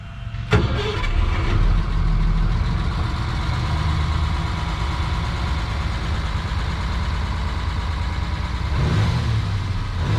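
An old 1965 Mercedes Unimog 404 engine cranks and catches with a sharp start, then settles into a loud, steady rumbling idle, close by.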